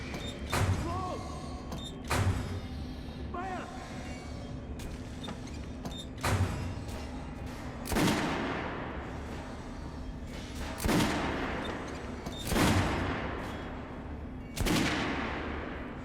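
Guns are test-fired on a shooting range in the post-apocalyptic shooter Metro Last Light Redux. Sharp reports sound roughly every two seconds, loud and echoing over a low background hum, with occasional metallic clicks between the shots.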